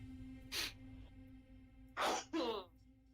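Two or three quick sneezes burst out close to the mic, with a faint steady hum between them and no talking.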